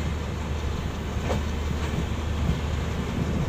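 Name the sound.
passenger train departing Mavli Junction, moving on the rails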